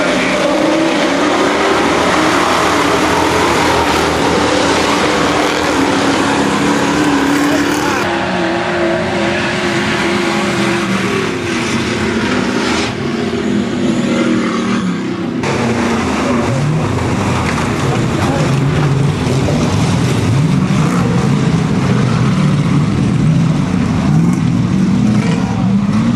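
Autocross race cars and a truck powering away from the start at Varstu, a loud continuous roar of several engines with tire squeal and skidding, while a commentator talks over the din throughout.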